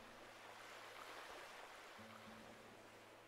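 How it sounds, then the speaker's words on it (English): Gentle ocean surf from the game Animal Crossing New Horizons, a steady soft wash of waves with faint low tonal background music, heard alone at low level. "Listen to the sound the waves are making."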